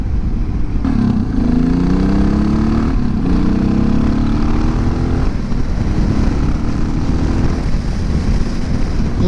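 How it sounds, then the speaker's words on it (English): A motorcycle fitted with an aftermarket muffler, larger jets and risers runs loud and close, a constant engine drone that swells in a couple of brief revs before settling back to a steady idle. "an aftermarket muffler, which you can probably hear a little bit of"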